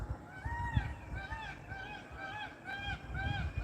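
Peacocks calling outdoors under a windy pre-rain sky, a series of repeated honking cries at moderate distance over faint background noise.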